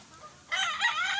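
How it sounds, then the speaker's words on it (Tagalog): A game fowl rooster at a small chicken farm in Bataan lets out a short, loud, nearby crow that starts abruptly after a quiet moment. "Ito po ang ating munting manukan sa Bataan."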